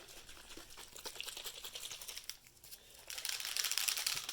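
A bottle of metallic alcohol ink is shaken so the small mixing balls inside rattle, giving dense rapid clicking that briefly pauses and then returns louder and steadier near the end, close and with no talking.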